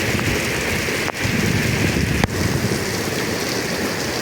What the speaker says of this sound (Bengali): দামাকা বৃষ্টি হচ্ছে।